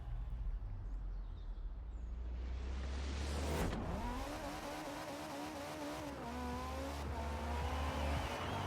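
Race car engines in a racing video game roar close and loud, a rising rev with shifting pitch and a sharp whoosh mid-clip, then steady high-revving acceleration.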